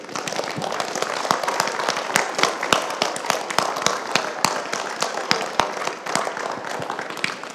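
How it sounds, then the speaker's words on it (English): Standing students at a male mentoring program event give themselves a round of applause, with dense, steady clapping from a crowd and sharp individual claps standing out close by throughout. "give yourself a round of applause"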